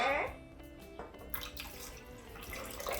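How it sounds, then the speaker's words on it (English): Water poured into a mixing bowl while making a rainbow cake, a quiet wet splash and trickle that rises after a faint start and runs steadily under a voice. "Then you pour in the water."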